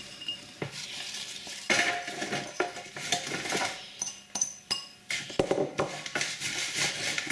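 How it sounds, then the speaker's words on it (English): Oven fries being tossed with oil in a bowl or pan, with a steady run of scraping, clinking stirring sounds and rattling cutlery, close and moderately loud, with no voices. "give that a mix. We want to coat all the chips with the oil."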